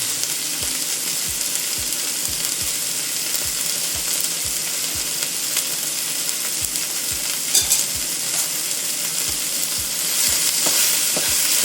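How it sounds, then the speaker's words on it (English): Food sizzles steadily in a hot frying pan while pork fried rice cooks, a constant bright crackle with regular soft knocks of stirring underneath, no voices. "Hear that sizzle?"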